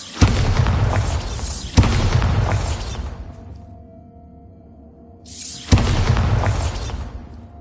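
Bombarda blasting spell explosions in Hogwarts Legacy: three loud, booming blasts about two seconds apart, each with a sharp onset and a decaying rumble, then a quieter lull with a low hum before the final blast.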